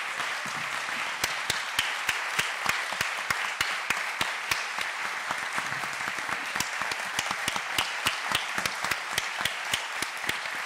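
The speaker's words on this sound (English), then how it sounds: "I have to interrupt the applause that would have probably gone on even for longer" Sustained audience applause at a talk on work and education, a steady dense patter of many hands clapping with sharp individual claps standing out, continuing evenly without voices.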